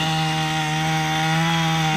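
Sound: cutting felled branches into firewood in a garden

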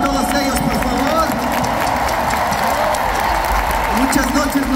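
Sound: concert crowd applauding the crew

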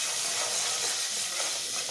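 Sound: colorau (annatto powder) added to pan with garlic paste, sizzling

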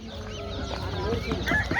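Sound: chickens clucking at a poultry market

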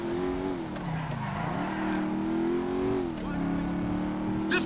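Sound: motorbike engine in video game GTA 5

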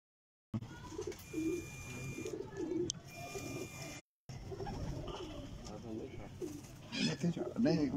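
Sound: pigeon cooing

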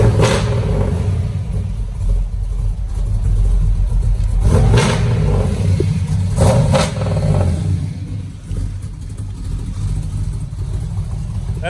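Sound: LS3 V8 engine of a 1969 Camaro SS running after cold start

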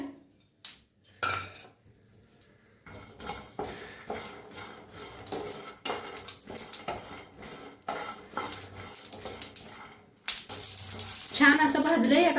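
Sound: dry-roasting peanuts and sesame seeds in a pan

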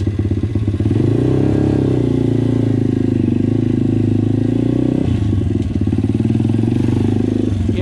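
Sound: MRF 140RC motorcycle engine running, pulling away in first gear

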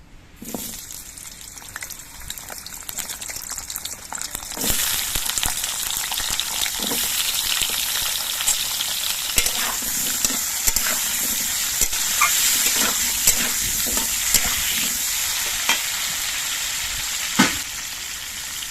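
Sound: potatoes frying in mustard oil

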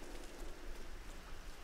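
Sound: rain in Tomb Raider video game

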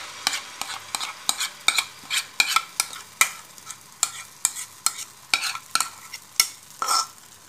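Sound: pistachio paste roasting in ghee over low flame

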